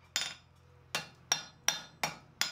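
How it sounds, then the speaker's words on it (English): A hammer strikes hot steel on an anvil while forging a barbell-shaped vice part, six sharp ringing blows at a steady, slightly uneven pace, close and distinct in a quiet shop. "We're starting to hammer those facets"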